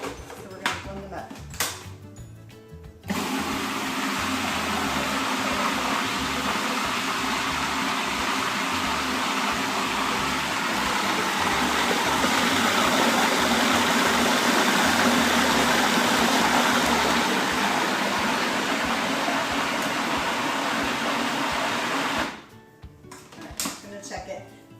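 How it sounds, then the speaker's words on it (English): A Cuisinart food processor with a regular mixing blade whirs steadily for about twenty seconds as it purées pears into baby food, bracketed by brief clatter and handling noises before and after. "All right, so we're going to blend them up."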